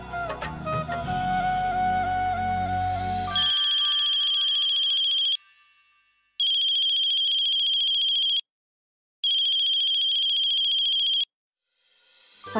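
A mobile phone rings while a call is placed to a pandit, first under a muddled busy mix and then as bright electronic ringtone bursts alone, with short silent gaps between them.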